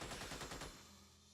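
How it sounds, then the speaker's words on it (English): Rapid automatic gunfire from civilians fighting aliens in the turn-based strategy game Xenonauts, a dense burst of shots lasting under a second before cutting off into a fading tail. "that was not me shooting either, so sounds like civilians taking care of some aliens there"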